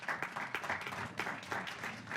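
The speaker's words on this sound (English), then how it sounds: "Give yourselves a big round of applause." Faint, distant applause from an audience at a Sports Tech 2020 showcase event: a short, soft patter of clapping that keeps an even level throughout.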